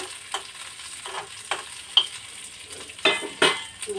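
Ingredients for a chutney frying in a pan, a soft continuous sizzle broken by sharp stirring clinks and scrapes of a utensil against the metal.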